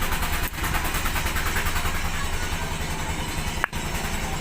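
Engine of a TVS Sports motorcycle with an exhaust valve worn loose in its guide, running steadily with a fast, even mechanical ticking over its drone, close up, and one sharp click near the end.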